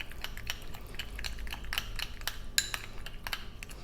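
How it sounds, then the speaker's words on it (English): Mayonnaise and green pesto being mixed with a utensil in a small dish, giving quiet, quick repeated clinks and scrapes of metal against crockery at close range, with no talk. "Gonna pop that in, give it a little mix."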